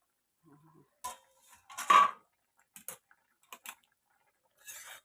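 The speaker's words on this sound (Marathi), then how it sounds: "चला 5 मिनिटांनंतर मी झाकण खोलून घेते." A metal lid lifts off a cooking pot with a few clinks and a scrape, followed by light clatters in a quiet kitchen.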